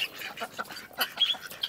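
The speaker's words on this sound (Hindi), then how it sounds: "दोस्तों पहले बतख हैं, इन्हें निकालते हैं बाहर" Ducks released from their pen quack in short, excited bursts, several calls overlapping at close range in an irregular rhythm.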